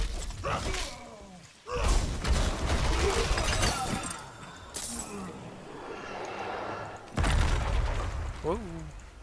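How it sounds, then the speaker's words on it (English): Loud crashing explosion blasts and shattering debris from combat in Diablo 4, several bursts with thuds and glassy clinks, while a man reacts with excited exclamations over the chaos. "Whoa! Watch the explosion."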